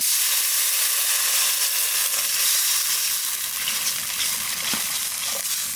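Black cumin seeds and green chilies frying in hot oil for a hilsa and green banana curry, with water then added, giving a steady loud sizzle and hiss throughout.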